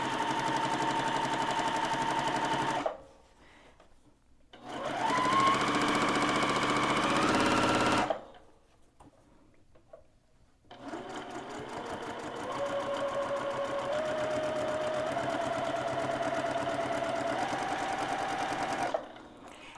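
A sewing machine stitches a dog bandana in close, loud bursts of rapid mechanical whirring, stopping twice in short pauses before running steadily again through to the end.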